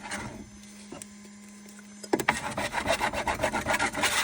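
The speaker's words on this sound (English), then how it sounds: "Put Pritt stick on here to get it to stick to it." A Pritt glue stick rubbed across a 3D printer bed, giving a steady scraping rasp of repeated strokes that starts after a brief quiet and grows louder and more rhythmic, close up and alone.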